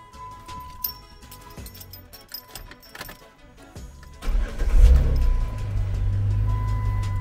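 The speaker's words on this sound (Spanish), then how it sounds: "Préndelo primero, el carro." A 2008 Jeep engine cranks and catches after some clicks and rattles, then settles into a loud, low steady idle rumble heard from close by.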